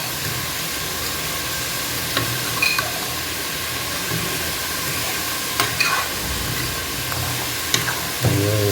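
Drumstick greens curry being stirred in a pan, a steady low frying sizzle with faint scraping touches of the spoon now and then, close and even throughout.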